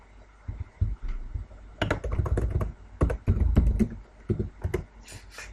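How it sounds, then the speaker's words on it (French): Computer keyboard keys tapped in short irregular bursts, close and fairly crisp, with a few firmer single presses among the clatter, alone without talk. "Donc j'appuie sur Entrée"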